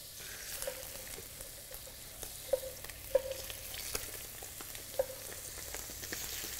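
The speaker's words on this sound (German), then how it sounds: "Sie hören schon, wie wunderbar jetzt die Haut knistert." Poularde skin frying in a very hot pan, a steady close sizzle and crackle with scattered sharp pops and ticks throughout, no voices.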